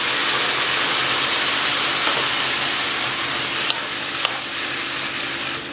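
A sweet burfi mixture with boiled cow's milk is sautéed in a pan, a loud, continuous sizzle and bubbling hiss with two faint clicks, no voices.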